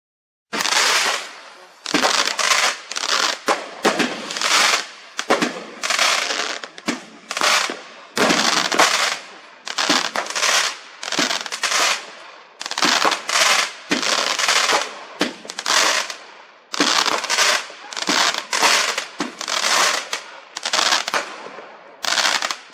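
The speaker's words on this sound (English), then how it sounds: "She just got attacked by the firework." Neighbourhood fireworks display in Darlington, with a long run of crackling bursts and rapid popping explosions, some in dense clusters, loud and fairly close outdoors, with occasional voices underneath.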